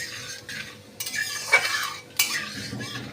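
Cumin seeds added to hot oil in a wok, giving short sputtering crackles in a few quick bursts mixed with light metal scraping and clinks from a spoon, close and fairly quiet.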